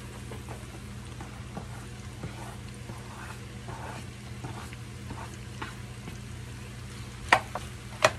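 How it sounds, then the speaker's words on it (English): Potato soup with carrots and celery is stirred in a pot, with soft, low scraping and gentle sloshing close by over a faint steady simmer, ending with a couple of sharper clinks of the spoon against the pot. "Give that a good stir."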